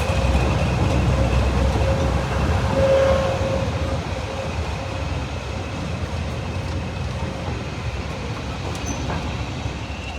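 Class 20 diesel locomotive 20142 in London Transport livery idles at the adjacent platform at Bridgnorth on the Severn Valley Railway, a steady low rumble with a faint tonal whine, slightly louder in the first few seconds.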